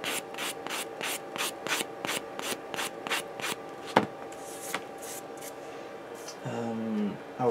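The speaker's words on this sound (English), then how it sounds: "You want to sand that down and smooth it out" Rhythmic back-and-forth rubbing of a sanding sponge smoothing a plastic part of a PG 1/60 Unicorn Gundam model kit, steady close strokes repeating about twice a second, then a brief clatter near the end.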